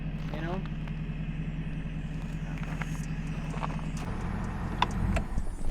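A compound turbo 6.7 Power Stroke diesel truck engine idles with a steady low rumble and a faint whine, recorded close, while someone talks over it.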